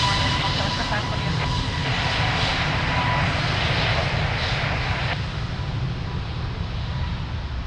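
Airplane taking off at Lisbon Airport, a loud, continuous broadband jet engine roar that holds steady throughout, with faint tower radio chatter mixed in.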